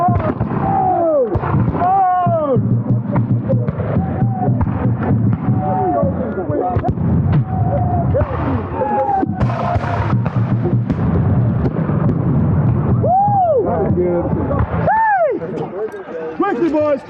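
Flintlock muskets fire in a volley at a Revolutionary War reenactment battle in the woods, a series of loud, close, booming reports and ragged pops, with shouting men throughout.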